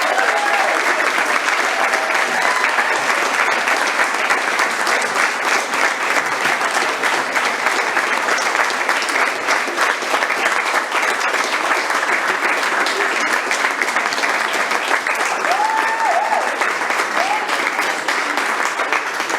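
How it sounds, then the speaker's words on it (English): Sustained applause fills a school board meeting room in Waxahachie, Texas, as the audience honors top student musicians; dense, steady clapping continues for the full stretch with a faint voice or two underneath. "So please give them a round of applause."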